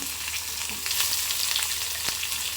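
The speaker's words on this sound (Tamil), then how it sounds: "போட்டு நல்லா கிண்டி விட்டுக்கோங்க. உடனே இதில் நம்ம வெட்டி வச்சுருக்க வெங்காயத்தையும் ஆட் பண்ணிக்கலாம்." Garlic and onions fry in hot oil for tomato chutney, giving a dense, even sizzle with faint stirring movement over a short stretch.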